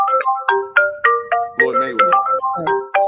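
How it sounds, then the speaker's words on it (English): A phone ringtone chimes for an incoming call on a boxing call-in talk show: a bright, repeating melodic pattern of electronic notes, loud and close, with a few spoken words over it. "Just phone call."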